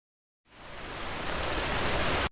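Heavy rain shower pouring down as a dense, steady hiss that starts abruptly and grows louder and brighter, then cuts off sharply at the end, with no voices.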